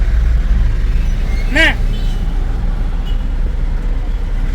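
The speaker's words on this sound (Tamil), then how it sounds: "உடனே டிராஃபிக் எல்லாம் வந்துருச்சு" Heavy road traffic on a vacation road trip rumbles steadily close by, with one short vehicle horn blast cutting through, while people talk over the noise.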